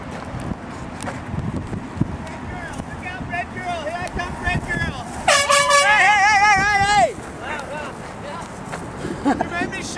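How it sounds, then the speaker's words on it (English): An air horn aimed at passersby outdoors gives one loud, steady blast of about two seconds, rising above wind buffeting the microphone. "We're gonna air horn people today."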